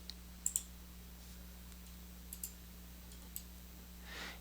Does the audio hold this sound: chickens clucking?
no